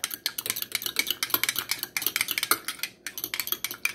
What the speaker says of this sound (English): You're going to have to mix it a little bit more.